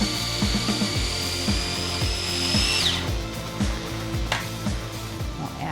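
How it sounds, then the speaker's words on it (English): A food processor whirring as it chops garlic for a dip in an Italian kitchen in Piemonte, a loud steady motor drone with rhythmic thumping of the blade and contents, alone without talk. "I actually am going to chop these up a little bit so I have more room in my food processor."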